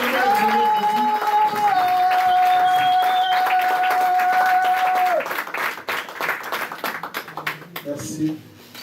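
A church congregation applauds and cheers loudly over a sustained held tone, and the clapping grows more scattered and uneven before fading while voices carry on in the background.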